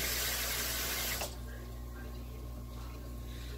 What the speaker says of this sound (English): I'm just rinsing off my